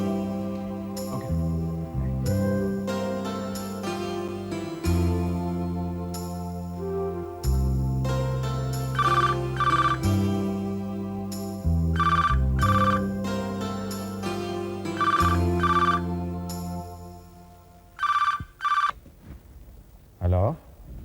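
A telephone rings in repeated electronic ringtone bursts, loud and close, for most of the stretch, with a voice speaking briefly near the end.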